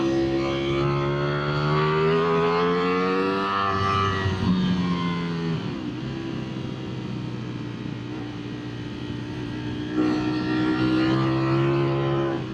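A 2025 Ducati Streetfighter V4 ridden with its exhaust baffles removed, the engine loud and steady from the riding position, rising in pitch under acceleration, dipping through gear changes, then pulling again.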